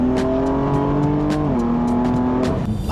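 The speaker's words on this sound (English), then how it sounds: "let's give it a few downshifts here and let's get there." A 2023 Alpina XB7 with a Meisterschaft exhaust drones loudly and close up, its engine note dropping sharply as it downshifts, then holding steady and falling again near the end.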